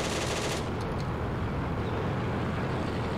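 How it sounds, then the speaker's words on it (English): Machine gun fire from a tank in the game Steel Fury comes as a dense, continuous rattle over a constant engine roar, loud and unbroken throughout. "Oh, I'm way short with that machine gun fire."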